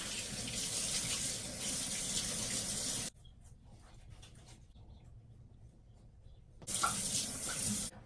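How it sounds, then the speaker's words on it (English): Bathroom tap running into a sink for face washing before a wet shave, a loud steady stream that cuts off for a few seconds, then resumes briefly with splashing. "I'm gonna wash my face and I'm gonna get ready to shave."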